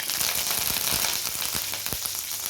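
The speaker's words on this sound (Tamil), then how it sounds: "கடுகு வெந்தயம் ரெண்டு பச்சை மிளகா கருகாப்பில் ரெண்டு போட்டு" Mustard seeds, fenugreek, green chillies and curry leaves sizzling in hot oil for Tamil-style horse gram rasam, a dense, loud crackle with sharp popping spits throughout.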